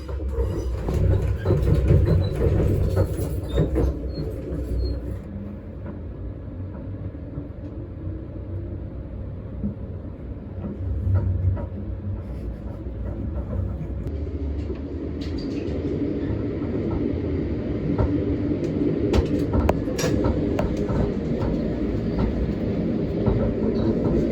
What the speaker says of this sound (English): welcome on board the intercity configuration for the Class 458